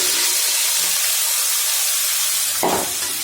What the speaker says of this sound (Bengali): ডিমগুলো উঠিয়ে নিয়েছি, আলুগুলো দিয়ে দিচ্ছি।